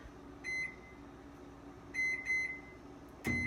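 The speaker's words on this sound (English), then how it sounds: "So now I'm going to put it in the microwave." Microwave oven running with a steady low hum while heating food, punctuated by several short electronic beeps near and far apart, ending with a louder clunk of the door or button.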